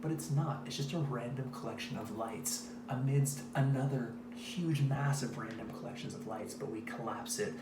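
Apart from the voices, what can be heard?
None of the usual background noises is heard.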